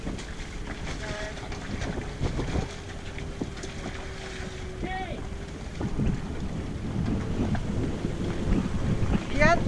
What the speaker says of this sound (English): 30 knots of wind.